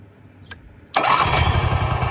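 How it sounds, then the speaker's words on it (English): An Onan 4000 generator with a sticking choke cranks with a brief click, then catches abruptly and runs loud and steady close by. "So I tried closing the choke plate manually and the generator would start, but died."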